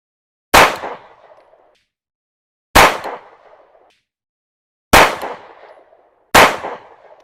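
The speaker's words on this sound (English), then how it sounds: "So it's still shooting low and left for me." Four loud, sharp pistol shots from a PSA Dagger Glock-clone handgun, spaced about two seconds apart, each with a short ringing decay; no talking.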